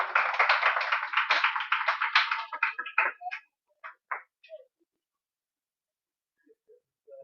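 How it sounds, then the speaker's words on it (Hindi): Students in a classroom clap together in a burst of applause that thins out into a few scattered claps and stops after about four seconds. "ए ताली बजा दो यार इसके लिए"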